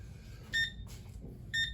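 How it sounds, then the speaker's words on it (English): A fastest-lap beep in a virtual slot car racing game, two short, bright electronic tones spaced about a second apart, clear over a low background hum. "So that beep means fastest lap time."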